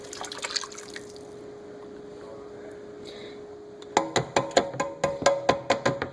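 Milk from a can poured into chicken stock for chicken and dumplings, a steady liquid pour and low hum for about four seconds, then a run of bright, evenly spaced drips and splashes.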